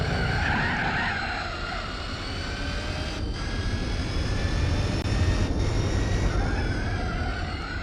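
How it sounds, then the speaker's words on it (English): Jaguar engine with supercharger boost in Gran Turismo 4, a steady loud engine drone with a high whine layered on top, pitch shifting slightly as the car drives on. "that has to be the supercharger going to work"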